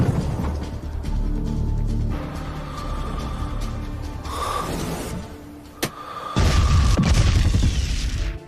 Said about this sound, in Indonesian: bom tersebut dengan tepat meledakkan mobil membawa senjata biokimia